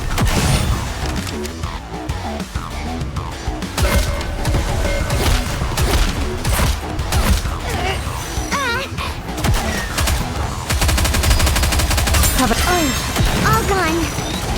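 Gunfire from the mobile shooter Nikke crackles in steady bursts beneath game music, character voice lines and a player talking, with crashes and booms scattered through the busy battle mix.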